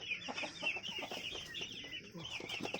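Chickens on a small poultry farm cluck in a busy, overlapping chorus, close and steady throughout, with faint voices mixed in.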